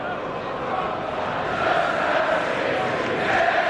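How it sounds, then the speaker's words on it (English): The crowd at Anfield chants Luis Suarez's name during a Liverpool all-star charity football match, a steady roar of massed voices filling the stadium. "the Anfield crowd is now singing the name of Luis Suarez"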